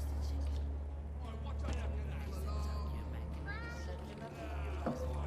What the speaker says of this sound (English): Oh yeah, it's a cat.